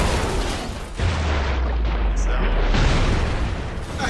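A deep boom rolls out in the Broforce video game, followed by a sustained low rumble that lasts a few seconds over a dense bed of game noise.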